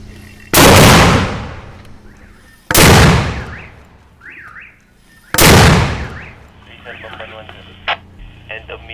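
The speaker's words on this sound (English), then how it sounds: "they're just about to send this mortar into enemy territory" Three loud, booming mortar blasts fire a few seconds apart during the battle of Marawi, each ringing out and slowly decaying, with faint warbling radio chatter between the blasts.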